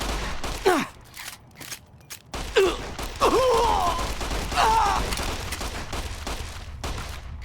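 Several .357 Magnum revolver shots in Fallout: New Vegas, sharp blasts spaced apart, mixed with pained groans and effort sounds from characters.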